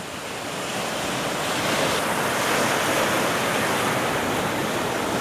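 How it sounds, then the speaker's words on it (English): Ocean waves roll in with a broad, steady roar of surf and wind that swells slightly and holds, loud and continuous with no voices. "And here's some more of the ocean coming in."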